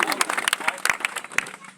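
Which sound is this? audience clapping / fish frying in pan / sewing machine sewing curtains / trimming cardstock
audience clapping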